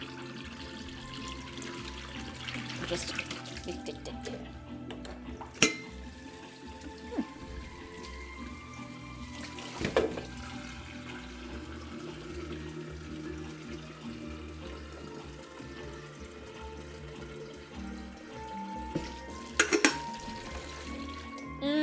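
Tap water running into a kettle in a home kitchen, a low steady trickle and rush with a few sharper splashes and clunks spread across a long, fairly quiet stretch, with a brief spoken word.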